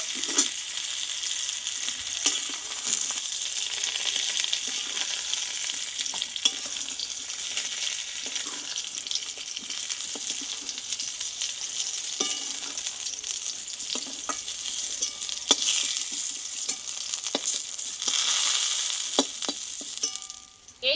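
Pieces of pointed gourd (potol) fry in oil in a wok, a loud, continuous sizzle with frequent spatula scrapes and clicks throughout, with no talk.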